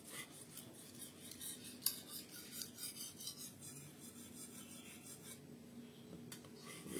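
A short knife is stroked across a fine whetstone without pressure, giving steady, rhythmic raspy scrapes up close at a soft level with no talking.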